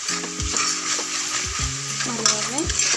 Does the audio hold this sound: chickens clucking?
no